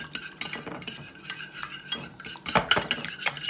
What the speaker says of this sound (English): put them in there, and I'm gonna use my whisk